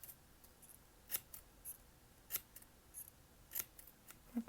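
Scissors snip through a square piece of paper for a heart cactus craft, a series of short, crisp, close cuts at an uneven rhythm in a quiet room.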